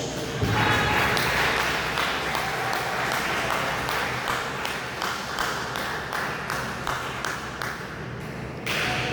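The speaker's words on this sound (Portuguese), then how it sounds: "dê uma salva de palmas bem alegre para Jesus" Church congregation clapping joyfully for Jesus after a prayer, a sustained wash of many hands with sharper individual claps standing out, fairly distant and reverberant, running for several seconds with a voice faintly present at times.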